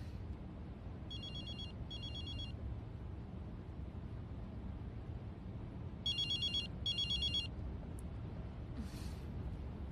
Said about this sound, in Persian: کی زنگ میزند؟